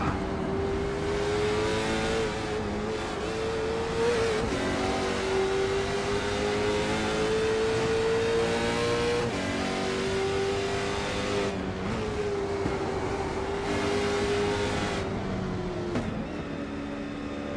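Onboard a Can-Am race car lapping Lime Rock Park, the engine drones loud and steady, rising and falling through revs and gear changes with brief lifts off throttle.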